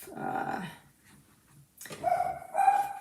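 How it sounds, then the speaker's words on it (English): A Cavapoo puppy gives a couple of short bursts of barking and yipping at close range, separated by a brief quiet gap, with no talk over it. "So he is a Cavapoo"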